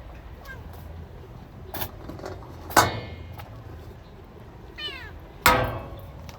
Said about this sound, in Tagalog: pinakain ko na nga itong dalawang kuting na ito ay si Kahel at saka si Moshi